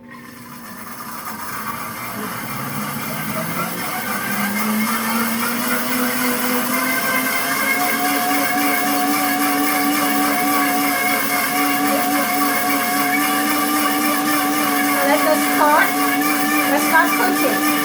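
A Pampered Chef countertop blender runs on its smoothie setting, churning cream into butter: a loud, steady motor whine that rises in pitch over the first few seconds, then holds a constant buzzing drone with sloshing underneath.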